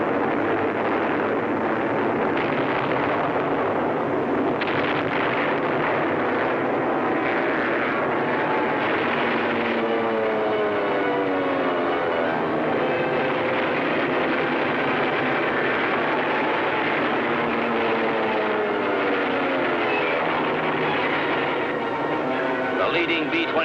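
Droning engines of B-29 bombers in flight on a raid over Tokyo near Mount Fuji, a loud continuous roar with wavering propeller tones, heavy and steady throughout with a voice speaking over it.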